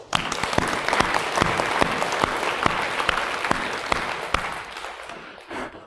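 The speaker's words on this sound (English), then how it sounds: "Clapping for myself." An audience at Tsinghua University claps after a lecture on the history of probability, with sustained, fairly close applause and several sharp individual claps standing out before it fades.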